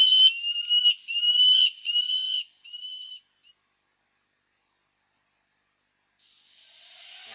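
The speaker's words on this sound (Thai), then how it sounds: "เครื่องไล่นกอัตโนมัตินะครับ ด้วยการจับความเคลื่อนไหว พร้อมส่งเสียง จากไฟล์ mp3 ที่ใส่ใน SD card" Automatic motion-triggered bird repeller playing a recorded MP3 sound from its speaker: a series of short, high, chirping calls for about three seconds, then silence and a faint rising hiss.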